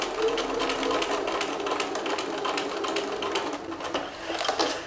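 Sewing machine stitching a Zimmermann-inspired skirt, running steadily and close with a fast, even mechanical whir throughout, with no talk.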